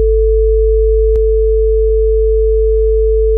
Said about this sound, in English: we just have a sine wave at around 50 hertz. And here we've got one at around 440.